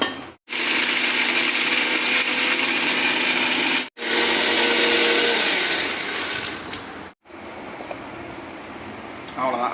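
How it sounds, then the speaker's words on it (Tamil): A loud mixer grinder whirs steadily while grinding coconut, in three long runs separated by brief stops, close and harsh. "முதல்ல மிக்சி ஜாரில் அரைச்சிக்கலாம்"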